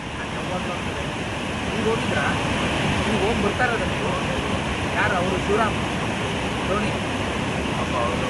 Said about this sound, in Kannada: ಮೈತುಂಬಿ ಹರಿಯುತ್ತಿರುವ ಫಲ್ಗುಣಿ ನದಿ ಅಬ್ಬರಕ್ಕೆ ಅದ್ಯಪಾಡಿ ಗ್ರಾಮ ತತ್ತರಿಸಿ ಹೋಗಿದೆ